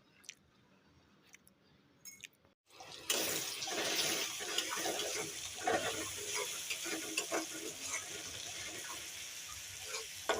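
Tilapia fish and potatoes cooking in a pan, quiet clinks and handling first, then a sudden loud hissing sizzle as food hits the hot oil, settling into steady frying with occasional stirring scrapes.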